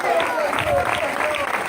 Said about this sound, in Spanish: Dale un aplauso fuerte al Señor en esta hora.